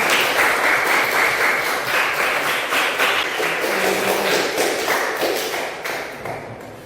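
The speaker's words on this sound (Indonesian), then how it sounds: "Baik, tepuk tangan untuk kelompok 1." Applause for a student group in a classroom, a dense steady patter of many hands clapping close by for several seconds, fading slightly toward the end.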